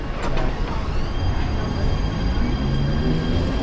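Mumbai local train running on the line between CSMT and Govandi, a steady loud rumble and rattle of the moving carriage filling the whole stretch, with faint voices in the background.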